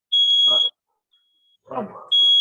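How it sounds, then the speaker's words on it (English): A security alarm going off, heard as loud, piercing electronic beeps in two separate bursts, with a short spoken phrase between them. "Suddenly, a security alarm goes off, and you all are pulled aside to be wanded."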